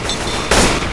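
A sudden loud burst of gunfire in Left 4 Dead 2, cutting in sharply halfway through over a noisy game background.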